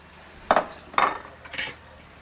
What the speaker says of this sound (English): add the celery, and we're going to dump this right into our stew